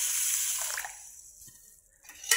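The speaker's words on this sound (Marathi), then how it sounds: "हे पाणी ओतून द्यायचं, याच्यात पाणी टाकून घ्यायचं" Water pours and splashes from a cooking pot holding soaking moth beans, a brief bright gush that fades within a second, followed by a few faint drips and a last short splash near the end.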